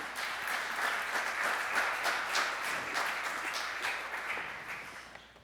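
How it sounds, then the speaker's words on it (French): Audience applause at a French presentation on energy renovation of housing, a steady, dense wash of many hands clapping that carries on throughout and eases off slightly near the end. "Est-ce qu'on peut vous applaudir aussi?"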